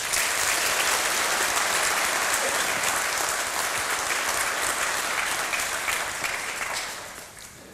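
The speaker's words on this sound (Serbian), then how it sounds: "Ja bih poželio da ih još jednom nagradite aplauzom." Loud, sustained audience applause fills a film premiere hall in Sarajevo, many hands clapping densely together before the sound tapers off near the end.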